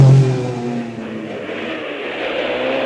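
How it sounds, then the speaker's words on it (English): A Chevette rally car races hard across a stage of the 1977 Lombard RAC Rally, its engine loud and near at first, then easing into a sustained high drone as it carries on. "Mikkola just flinging that Chevette across the track."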